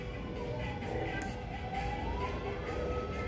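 An ambulance siren wails faintly in the distance, heard from a 22nd floor, its tone slowly sweeping up and down beneath steady traffic noise.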